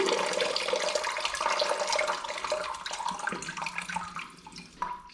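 Water drains and splashes steadily from a removed toilet fill valve into a catch container, close and continuous, easing off toward the end.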